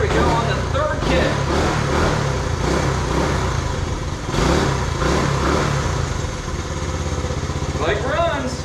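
Honda CT90 motorcycle engine running just after a kick start, a close, uneven putter and idle with blips of revving, while a person talks over it.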